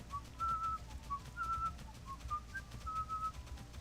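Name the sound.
person whistling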